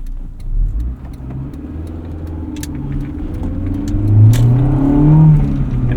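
Engine of a 1988 Honda CRX Si with manual transmission accelerating from inside the cabin, a steady low hum that swells and climbs in pitch as it revs, with faint clicks and no talking.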